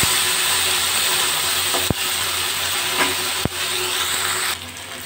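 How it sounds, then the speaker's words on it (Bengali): Okra frying in a pan over a raised gas flame, with a steady, loud sizzle throughout and a few sharp scrapes and knocks as the pieces are stirred. "এইভাবে ঢ্যাঁড়সগুলো একটু ভাজা ভাজা করবো।"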